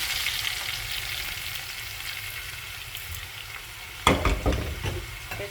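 Beef for kala bhuna sizzles loudly in hot spiced oil with a steady crackling hiss, then a sudden burst of clattering stirring and sputtering as the meat is moved around the pan.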